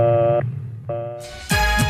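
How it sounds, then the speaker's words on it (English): Short bursts of an electronic telephone tone separated by gaps, followed by a brighter, harsher tone segment with a click, fairly close and clear. "If the line is busy, you'll hear this busy signal."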